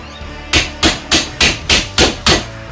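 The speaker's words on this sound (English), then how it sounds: "Just keep on working around, just driving the chisel along" A chisel hammered straight through a phone's plastic and metal body: seven sharp, evenly spaced metallic strikes, loud and close, each ringing briefly before the next blow.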